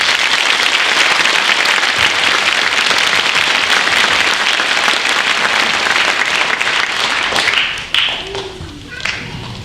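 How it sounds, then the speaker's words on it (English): Loud, dense audience applause at a middle school winter band concert honoring the students, sustained for several seconds before thinning out into scattered claps and murmuring voices. "let's give them a big round of applause"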